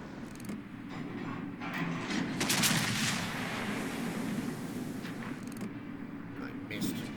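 Warship guns in the naval video game World of Warships fire super-heavy AP shells in a loud, booming broadside. The blasts roll out over a steady rumble of engines and sea, and someone talks over the action.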